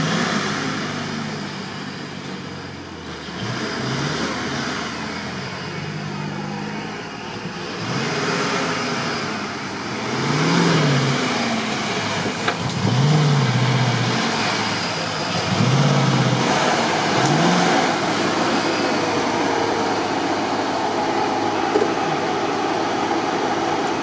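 A GAZ-66 Shishiga off-road truck drives up on rough terrain, its engine droning and rising and falling in pitch as it works through the ground, loud and fairly close against a steady background hum.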